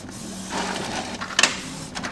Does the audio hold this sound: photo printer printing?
yes